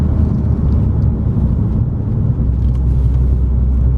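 A stolen, recovered and repaired Audi S4 is driven and accelerated, its engine a steady low rumble heard from inside the car. The drone holds constant for about four seconds with road noise and no talking.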